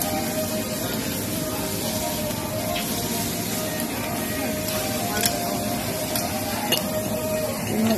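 Dumplings cooking on a Korean barbecue grill give a dense continuous sizzle and hiss with occasional clinks of utensils, while people talk nearby under the steady frying.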